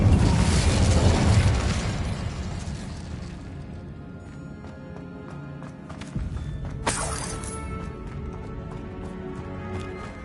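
An Incendio fire spell erupts in Hogwarts Legacy on PS5, a loud roaring blast of flame that swells at the start and slowly fades, followed by a second crackling flare and clattering debris.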